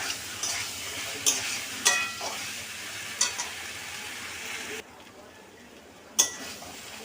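Potato, shrimp and elephant foot yam are stir-fried in spices, with a steady sizzle and several sharp metallic clinks and scrapes of a spatula against the pan, close and fairly loud, with little talk.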